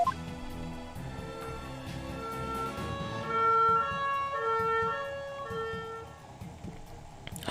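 A wailing ambulance siren from the video game Phoenix Wright: Ace Attorney - Spirit of Justice rises and falls steadily and swells louder midway through, with a quiet game soundtrack underneath.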